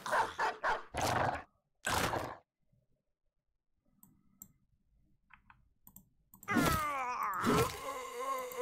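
Dog barking and growling in the fantasy combat game Battle Brothers, a few sharp bursts near the start and a louder snarling cluster near the end, with clicks and quiet gaps between.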